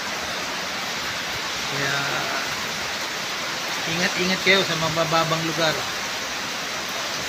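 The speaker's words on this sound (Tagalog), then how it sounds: "Malakas na ng ulan, malakas din ang hangin." Heavy rain with strong wind in Muntinlupa, a steady dense roar of downpour filling the whole clip while someone talks over it.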